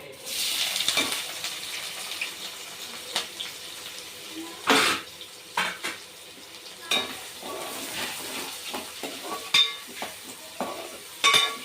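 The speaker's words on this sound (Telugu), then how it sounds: "అవి మాడక ముందే ఉల్లిగడ్డలు వేసుకుందాము" Onions fry in hot oil in a pan for a chicken curry, a soft continuous sizzle broken by scraping and clinking stirring strokes, close and fairly quiet.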